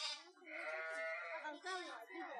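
A person imitates a sheep's bleat in a drawn-out, wavering baa during a children's Christmas skit, with other voiced sounds following.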